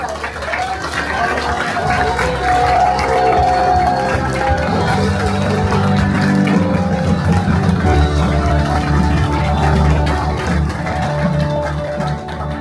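A standing crowd of supporters at a Sejong mayoral candidate's campaign office opening cheers and applauds loudly and continuously, a dense roar of clapping and voices with music-like tones beneath.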